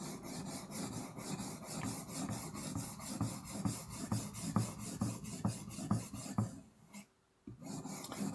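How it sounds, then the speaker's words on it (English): A knife being sharpened with steady, rhythmic rasping strokes, close and even, about two or three per second, ending in a short quiet gap before a final stroke, no talk. "Sharpening normally doesn't take anywhere near this long"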